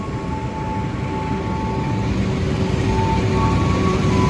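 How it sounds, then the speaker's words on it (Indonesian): The Malabar passenger train arrives from Bandung with a loud, steady rumble and rolling noise, faint tonal squeals drifting above it as it approaches. "ini dari arah selatan kereta api Malabar datang dari arah Bandung"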